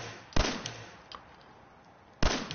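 Two sharp gunshots from a sniper rifle in the video game Fallout 4, about two seconds apart, each a loud crack with a quick decay over quiet game ambience, no talking.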